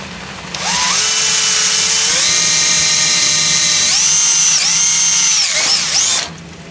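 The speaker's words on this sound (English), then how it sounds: "drill right through everything" A power drill bores holes through a part for a cheap mason jar hydroponics setup, one continuous loud whine with pitch that rises and falls as the bit loads and frees, stopping abruptly near the end.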